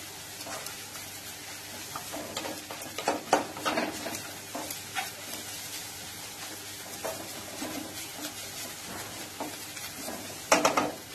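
A spice mix fries in a pot, giving a soft, steady sizzle broken by irregular stirring scrapes and light clinks of a utensil against metal, fairly quiet and close.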